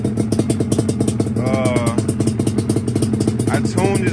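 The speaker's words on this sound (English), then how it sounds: "bike is running rich, man." A 1992 Yamaha Banshee ATV with DMC pipes runs slightly rich at a steady, throbbing idle, close and loud, with a continuous rhythmic engine pulse throughout.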